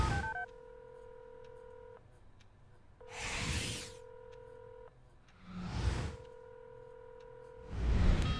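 A telephone is dialed in repeated bursts of steady keypad tones, each run of beeps broken by loud whooshing rustles, close and clear with no talking.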